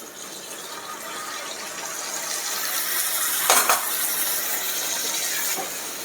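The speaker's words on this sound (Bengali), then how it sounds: "এবার আমি এখানে অ্যাড করব 1 কাপ পরিমাণ ফুটন্ত গরম পানি।" Boiling hot water poured into a pan of braised duck curry and stirred, a steady bubbling sizzle with a brief splash and scrape of the spoon against the pan partway through.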